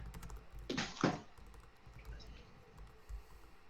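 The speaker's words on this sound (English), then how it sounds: "he's typing right now" Someone typing on a computer keyboard: a quick burst of two or three close key clicks, then quiet background hum with faint soft taps.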